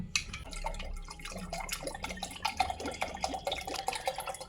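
Water pours for making coffee, a close, continuous trickle with bright splashing and ringing drip-like plinks throughout, fairly quiet and with no voices.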